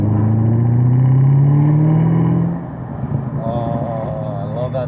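A 650hp Camaro ZL1 being driven, its engine drone loud and steady at first, then dropping to a lower hum as a voice talks over it.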